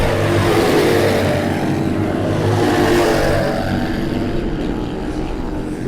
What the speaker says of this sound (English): there is nothing quite so sweet as the sound of an XR Harley-Davidson motorcycle